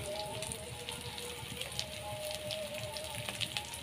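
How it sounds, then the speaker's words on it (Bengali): Potatoes fry in oil with salt, chili powder, turmeric and cumin, giving a dense, steady crackling sizzle with scattered sharper pops throughout. "ভালোভাবে ভেজে নেব আলুটা।"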